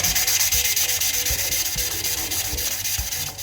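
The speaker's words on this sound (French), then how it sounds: "on dit toujours rodage de soupape, ça a l'air super technique et tout." Continuous gritty rubbing and scraping with a faint back-and-forth rhythm, close up, as a valve from a 2JZ engine is lapped against its seat with abrasive paste.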